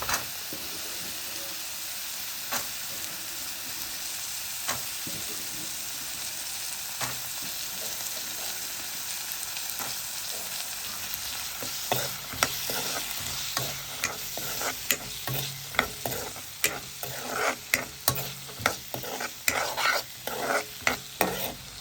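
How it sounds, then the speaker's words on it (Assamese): Green peas frying with masala in a pan for matar paneer, a steady sizzle under repeated scraping stirs that grow louder and quicker toward the end. "এনেকৈ মছলা লগত মটৰখিনি অলপ টাইম ভাজি"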